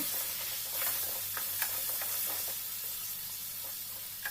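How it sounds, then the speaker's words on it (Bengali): Hog plum fries in oil with red chili powder, a soft steady sizzle with light stirring scrapes scattered through, fairly quiet and close. "এটাকে দু মিনিট তেলের মধ্যে ভেজে নেব ভেজে এবার দেব লাল লঙ্কার গুঁড়ো এক চামচ দিয়ে আরও কিছুক্ষণ ভেজে নেব"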